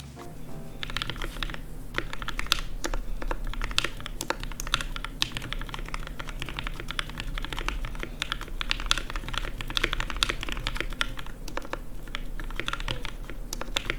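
Typing on a custom mechanical keyboard fitted with GMK Cafe keycaps and lubed stabilizers, a steady run of close, crisp keystrokes continuing throughout without any voice.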